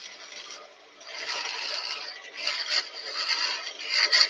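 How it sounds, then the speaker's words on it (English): A woodturning skew chisel being touched up, giving repeated raspy strokes of steel against an abrasive in uneven bursts, close and moderately loud with no talk. "just going to touch that skew up"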